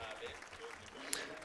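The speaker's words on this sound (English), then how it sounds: "Let's give them an applause as they march forward." Faint, steady applause from a church congregation during a Sunday service as families come forward onto the stage, distant and continuous, with a voice partly audible beneath it.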